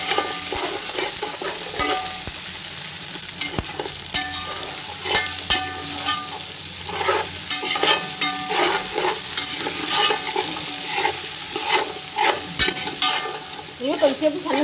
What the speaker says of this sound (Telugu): ఇవి కొద్దిసేపు సన్న సెగను వేయించాలండి.